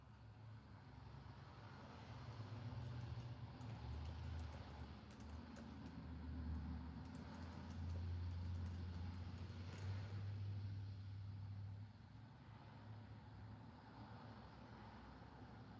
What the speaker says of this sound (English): A lot of traffic.